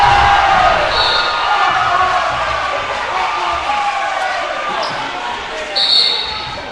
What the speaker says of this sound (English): Crowd went ecstatic.